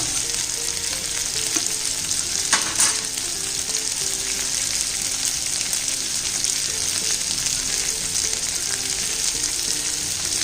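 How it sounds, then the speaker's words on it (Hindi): Arbi (colocasia root) fries in a pan with a loud, continuous close sizzle, occasional scrapes and stirring clatter rising over the steady hiss. "फिर थोड़ी थोड़ी देर पर इनको चलाइए"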